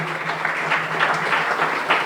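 A church congregation claps during a morning service, steady crowd applause with a faint tonal hum underneath, at moderate distance.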